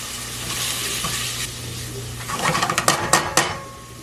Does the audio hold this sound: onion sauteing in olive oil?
yes